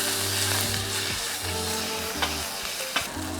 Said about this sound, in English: Saute some garlic until they're nice and golden, and then add that pulled meat.